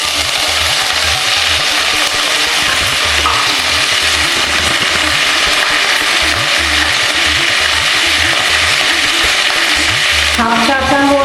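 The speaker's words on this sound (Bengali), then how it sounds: "ভালো করে এই ফোড়ন সুগন্ধ বেরোনো পর্যন্ত একটু নাড়াচাড়া করে নিচ্ছি" Curry leaves, fenugreek and asafoetida sputter in hot oil as a tempering for South Indian sambar dal, with a steady loud sizzle and repeated stirring scrapes throughout, and no one talking.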